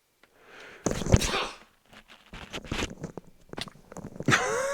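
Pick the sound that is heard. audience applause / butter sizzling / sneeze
sneeze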